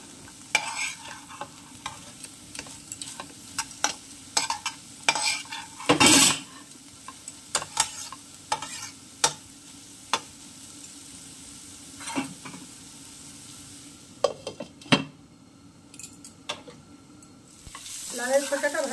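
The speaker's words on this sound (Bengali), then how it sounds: "পোস্তটাও লাউয়ের খোসার সাথে ভালো করে একসাথে ভাজা হয়ে যাবে।" Bottle gourd peel and poppy seeds fry in a pan with a soft steady sizzle, broken by frequent scraping and clinking stirs of a spoon against the metal, close up, with no talking.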